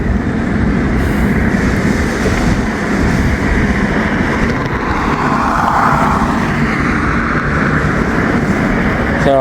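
Train crossing a bridge over the Ohio River at Cincinnati, a loud, steady continuous rumble and roar of rolling wagons lasting throughout.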